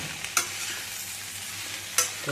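Mixed vegetables frying in a pan while being stirred, with a constant soft sizzle and two sharp scraping strokes of the spoon against the pan, no one speaking.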